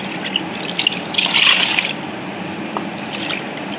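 Milk poured into a pot for Layali Lubnan, a chilled Lebanese semolina dessert, gives a steady liquid splash and trickle that swells briefly midway and then settles, close and moderately loud, with no talking.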